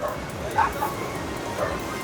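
A couple of short dog yips and whimpering barks from a dog fight break out over a steady noisy background by a seaside restaurant, brief and moderately close.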